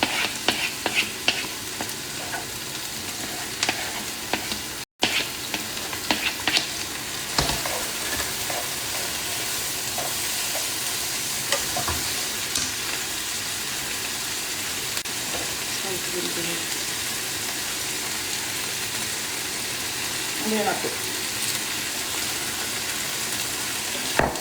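Onions, leeks, carrots and garlic fry in a pan, giving a steady close sizzle with scattered stirring clinks and scrapes that continues throughout, with a brief dropout early on.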